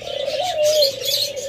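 Doves in a cage give a steady, close cooing call with light chirps above it, continuous for the whole moment with no voices.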